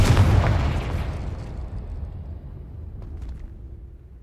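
A Confringo explosion spell in the game Hogwarts Legacy bursts loudly at the start, then rumbles and fades away over several seconds, with no voices.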